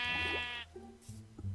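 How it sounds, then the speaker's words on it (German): Sheep in the game Minecraft lets out one loud, close bleat lasting about half a second, followed by quieter low rumbles and faint game noises. "Blödes Schaf."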